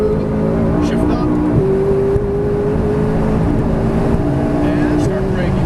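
A McLaren 570S accelerating on the Exotics Racing track in Fontana, California, its engine note holding a strained, rising tone with brief dips at shifts, heard from inside the car under ongoing instructor talk.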